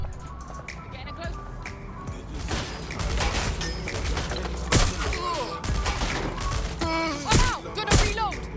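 Gunfire in Watch Dogs: Legion crackles in bursts and single sharp shots over a steady game soundscape, with loud impacts near the middle and end, and a voice talking over the action.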